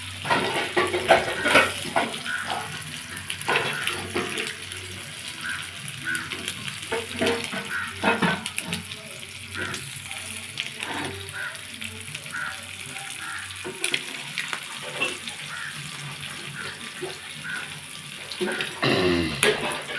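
Prawns frying in a pan, continuous sizzling crackle with bursts of stirring and scraping, close and fairly quiet, running throughout.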